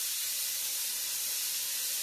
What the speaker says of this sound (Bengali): এবারে মাশরুম হচ্ছে 8 থেকে 9টা, আমি মাশরুম দিয়ে দিলাম।